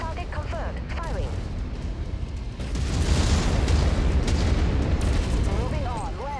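Mech weapons fire and explosions in the MechWarrior 5 Mercenaries PC game, with a rumbling burst of heavy booms swelling midway over engine hum and short electronic chirps, loud and close, with no speech.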